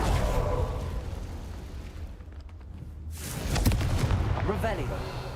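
The Confringo blasting spell in Hogwarts Legacy goes off in booming explosive bursts with whooshing tails, one around the middle and another near the end, over a continuous game soundscape.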